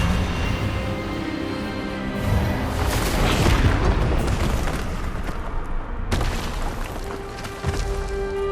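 An Expelliarmus spell in the video game Hogwarts Legacy lands as a loud, booming magical burst with a crackling roar that swells, then drops off abruptly before a quieter tail.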